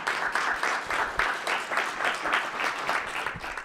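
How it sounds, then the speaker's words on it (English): An audience applauds a panel of quantum technology experts at a launch event in Calgary, producing steady, moderately loud clapping from many hands with a slightly pulsing rhythm. "Let's give them all a round of applause"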